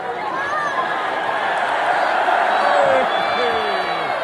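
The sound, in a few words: crowd reacting to Blake Monroe's SmackDown debut, UK fan cam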